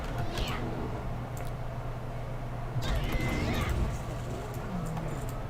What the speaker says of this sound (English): I hear my cat, and I hear my air conditioner.